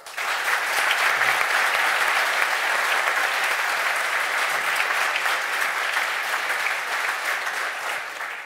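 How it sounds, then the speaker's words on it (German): A studio audience on a German sports talk show applauds a guest with a long, even roar of clapping that stays loud and sustained throughout, fading only slightly at the close. "Bitte auch einen großen Applaus"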